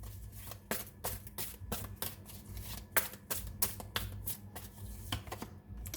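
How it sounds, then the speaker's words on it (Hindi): Tarot cards being shuffled and drawn from a deck for a love-life reading, a steady run of crisp close slaps and riffling flicks with no talk over them. "अब मैं लव लाइफ से रिलेटेड भी कुछ कार्ड्स निकालती हूँ और देखती हूँ यहाँ से क्या आता है।"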